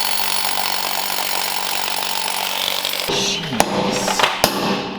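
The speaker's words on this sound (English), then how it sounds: "This is how you drill through concrete though" A power drill boring through concrete during work on a Jeep Gladiator 6x6 conversion, a constant grinding whine that shifts into rougher, louder chatter partway through, with a couple of sharp knocks.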